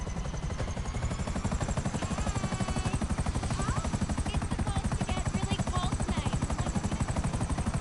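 A helicopter flies in GTA Online, its rotor chopping in a steady, fast rhythmic thump over a constant engine whine, loud and close throughout.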